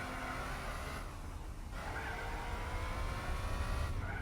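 A front-wheel-drive V6 hatchback racing in Gran Turismo 4 roars along the track with a dense, continuous engine drone and brief tire squeal, the pitch shifting as it lifts and accelerates onto a straight, with no talking.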